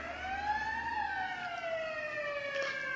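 An emergency vehicle siren wails in a slow rising and falling tone, heard from a distance over faint background noise.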